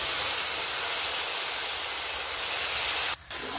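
Cumin paste hits hot oil in a pan for a fish curry, giving a loud, steady hissing sizzle that cuts off abruptly near the end.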